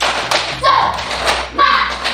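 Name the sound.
class doing a rhythmic clapping chant (tepuk semangat)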